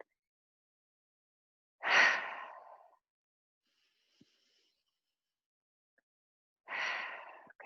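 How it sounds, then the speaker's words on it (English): Two slow, deep breaths during a calming exercise, each a soft airy exhale rising and fading, separated by several seconds of silence. "Breathe in nice and deep through your nose and maybe a deep breath out through your mouth."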